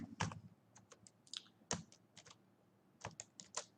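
Computer keyboard keys clatter under fast typing of Python code, in irregular bursts of close, crisp taps with brief pauses between them.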